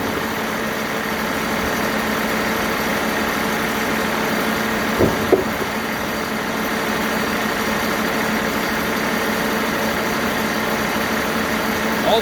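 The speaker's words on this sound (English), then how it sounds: "The engine is running like a champ." The engine of a Timberking 2220 sawmill drones on at a constant idle-like pace, with a brief faint knock in the middle and no voices.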